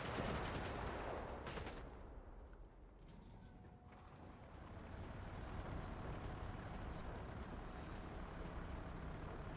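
MG42 machine gun fire in a Company of Heroes 3 battle, dense and continuous rattling gunfire layered with other combat noise, dipping briefly before building back up, with no talking.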